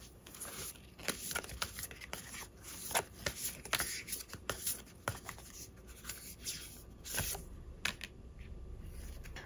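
Tarot cards being shuffled by hand, a soft, close run of riffling and rubbing with irregular flicks and taps, quiet and continuous for several seconds.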